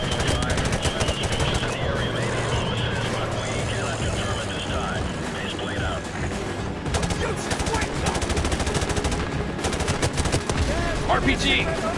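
Rapid automatic gunfire from Modern Warfare Remastered crackles in repeated bursts through a busy battle mix with engine rumble, while a player talks over much of it.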